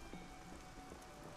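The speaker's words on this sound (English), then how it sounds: "Standing out here in the rain can't be healthy." Steady rain falling in an outdoor area of the video game Xenoblade Chronicles 2, a continuous even hiss of drops on surfaces with faint low rumble underneath, no talking.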